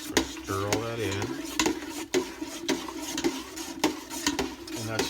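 Butter is stirred into a pot of Irish beer cheddar soup, a close scraping stir with light clinks against the pot, while a person speaks over it.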